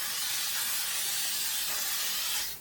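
A steady, close hiss of makeup setting mist spraying continuously for a couple of seconds, then cutting off.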